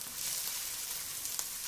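Spices frying in hot oil for a pan-cooked stuffed Indian flatbread, giving a steady, close, fairly soft sizzle throughout with no talking.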